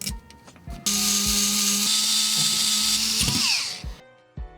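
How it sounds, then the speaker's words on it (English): A power screwdriver whirs steadily for a few seconds while driving screws back into an HPA-converted airsoft AEG, close and loud, bracketed by small clicks and handling knocks before and after. "Now we put the screws back in."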